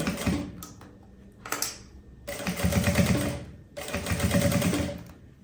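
Sewing machine stitching a seam on a quilted puffer tote bag, with two bursts of rapid mechanical whirring separated by short pauses and a few quick clicks, near and fairly quiet, with no voices.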